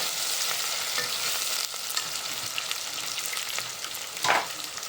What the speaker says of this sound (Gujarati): સુકેલી ડુંગળી નાખી દીધી એક જ મિનિટ એકથી બે મિનિટ પકાવવાની